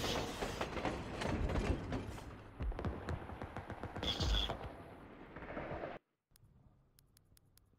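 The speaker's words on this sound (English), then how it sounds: "We kept the enemy from the prisoners long enough for our munitions train to leave town." A munitions train pulls out of town in Call of Duty WWII, with dense rumbling and clattering wheels alongside scattered gunfire-like bangs for about six seconds before cutting to near silence with faint ticks.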